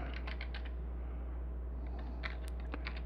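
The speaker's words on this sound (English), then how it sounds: "if we're typing in the search bar" Computer keyboard typing into a GUI search bar: a run of quick, irregular key clicks close by over a low steady hum, with a brief pause mid-clip before the tapping resumes.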